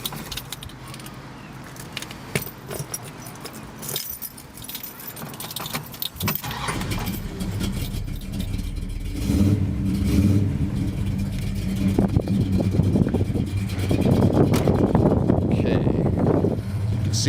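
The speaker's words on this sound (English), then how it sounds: "let me start the engine up so you can hear it" A 1969 Dodge Charger engine turns over and settles into a deep, steady running rumble, with keys jangling and a brief voice early on, light rain outside.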